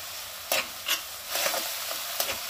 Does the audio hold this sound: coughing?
no